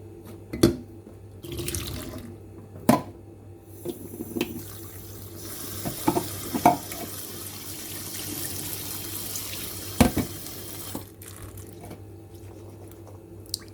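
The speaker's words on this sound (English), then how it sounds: "So let's start now rinsing my chickpeas." Chickpeas are rinsed under a running kitchen tap, water splashing steadily in a sink with several sharp knocks and clunks of a bowl or pan along the way.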